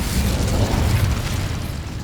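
Incendio fire spell cast in Hogwarts Legacy, a loud sustained roaring whoosh of flame with a deep rumbling low end, steady for about two seconds and fading slightly at the close.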